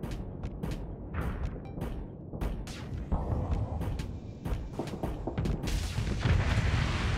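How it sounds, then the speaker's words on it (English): Space combat in Starsector as a ship launches missiles, with repeated sharp launches and booming impacts over a steady low rumble, loud and fairly continuous with no talk. "I'm gonna shoot some missiles now"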